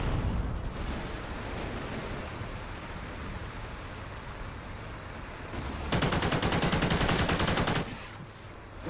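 Dense, continuous automatic gunfire from Call of Duty Ghosts, loud and close throughout, with a fiercer, harsher burst of rapid fire swelling near the end before easing off; no talking.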